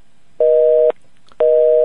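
Two loud, steady busy-signal tones pulse from a telephone line after a call drops, each lasting about half a second with a short silent gap between them.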